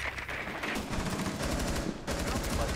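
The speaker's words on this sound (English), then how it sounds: "I had no clue where I got shot from" Rapid machine-gun bursts and gunshots ring out in a tactical multiplayer video game round, loud and continuous with a brief break around the two-second mark.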